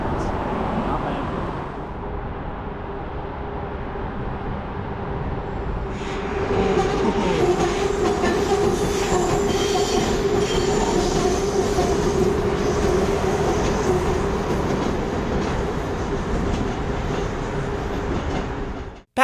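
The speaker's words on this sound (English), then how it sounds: "Back up on the platform, we find a train of Mark I cars, SkyTrain's original rolling stock, which will be riding back to Granville Station." Vancouver SkyTrain train of original Mark I cars at a platform: a low hum that swells into a steady rolling rumble with wheel noise and a faint whine, close by and continuous, ending abruptly.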